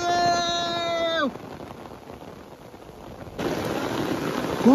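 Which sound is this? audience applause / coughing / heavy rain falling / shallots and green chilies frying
heavy rain falling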